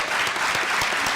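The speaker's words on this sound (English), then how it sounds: "let's give a round of applause to this cast." A conference audience gives the cast of The Hate U Give a brief, dense burst of applause, a loud wash of many hands clapping together.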